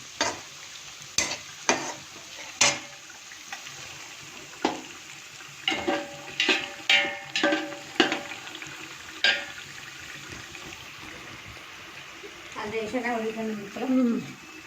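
Marinated chicken paste made with tomatoes, chili powder and green chili fries in oil for a home-cooked chicken dum biryani. Scattered spatula clanks and scrapes come first, then a hissing sizzle swells near the end.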